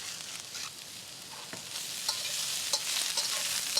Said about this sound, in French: vous laissez cuire les légumes verts 5 à 7 minutes